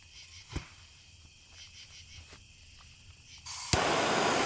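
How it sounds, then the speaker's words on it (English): A steady, faint chorus of crickets and frogs at night hums in the background, then a loud rushing hiss abruptly takes over near the end. "Nice country sound out here tonight with the bugs and the frogs."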